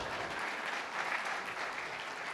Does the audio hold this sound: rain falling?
no